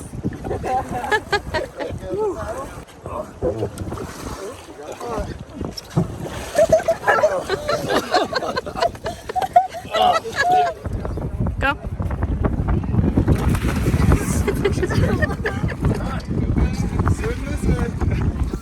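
Colorado River water splashing and rushing around a raft during a rafting trip, with gusty wind noise on the microphone and voices talking over the churning water throughout.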